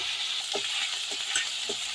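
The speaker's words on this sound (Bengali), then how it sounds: "পেঁয়াজ রসুনটা ভাজা ভাজা হয়ে এসছে।" Onion and garlic paste fries in hot oil, giving a close, steady sizzle broken by a few brief stirring scrapes.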